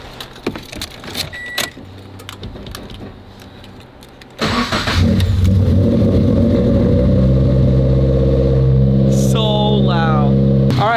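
After some clicks and rattling, a turbocharged car engine cranks and roars to life, then settles into a loud, steady rumbling idle with a brief high whine near the end.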